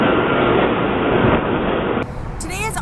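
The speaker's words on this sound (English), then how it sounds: "That bridge is important because that is the bridge that the D train runs on" A New York D subway train crossing the Manhattan Bridge, a loud, close rumble and rattle of rail cars that cuts off abruptly into quieter background where a voice briefly speaks.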